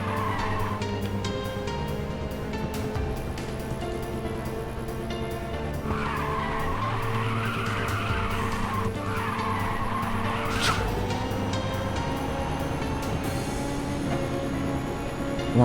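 Tires squeal continuously as a car drifts through linked corners in the racing video game Ridge Racer 2, a sustained screech riding over steady engine drone with no talk.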